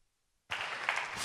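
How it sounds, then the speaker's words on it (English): After a brief silence, applause suddenly breaks out and continues as a steady, dense patter of many hands clapping. "Big applause to Gabi Bischoff."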